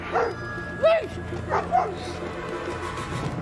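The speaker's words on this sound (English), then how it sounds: "Is that the one-eyed dog?" A dog in a drama scene gives a few short barks and yips, spaced irregularly under a background of people talking.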